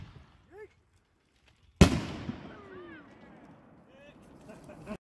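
A single firework goes off with a sharp, loud bang, then crackling and whistling trails fade over the next few seconds, with a few faint whistles earlier and voices in the background.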